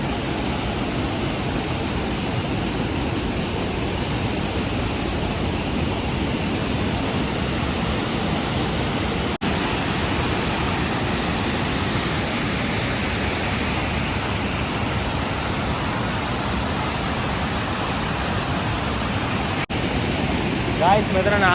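Sathmale Ella, a waterfall with about seven tiers near Deniyaya, Sri Lanka, roars with steady, loud rushing water that fills the whole stretch without a break.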